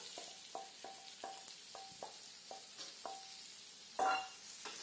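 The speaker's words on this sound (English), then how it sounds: "now that the bacon is starting to get crispy, I'm going to add the onions." Bacon crisping in a pan as onions go in, with a soft steady sizzle beneath a run of repeated light stirring scrapes and taps and one louder clatter near the end, no voices.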